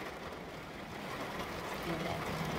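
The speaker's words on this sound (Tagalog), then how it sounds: "Lumakas pa lalo ang ulan mga Jaya." Heavy rain pours down in a sudden downpour over a home garden, a steady dense hiss that holds fairly quietly and swells a little louder toward the end.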